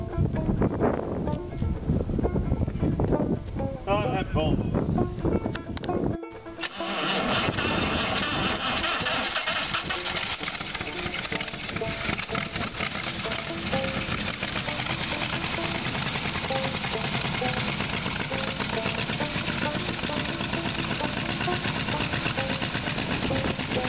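Rat rod car engine running steadily through the clip, a dense rumble with an abrupt shift early on, heard close with people talking over it at times.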